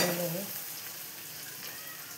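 Stuffed bitter gourd fries in a pan with a faint, steady sizzle that continues after a brief voice at the start.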